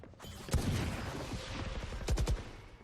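Sheriff pistol gunshots in a Valorant esports match, several sharp cracks with one early shot and a quick cluster of three near the end, over a game background hum.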